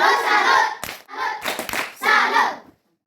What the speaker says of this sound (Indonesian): mari kita memberikan tepuk salut untuk Mereh.